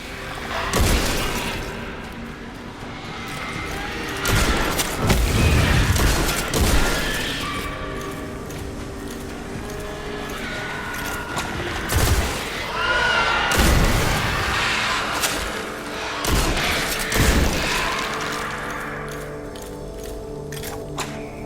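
The Chaperone shotgun from Destiny: The Taken King fires in loud, booming blasts spaced a few seconds apart, with metallic mechanical reload clicks and clanks between shots.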